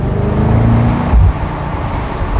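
Deep, steady engine rumble from a 600-horsepower 2020 BMW M8 convertible, loud and continuous with a brief low surge midway, no voices.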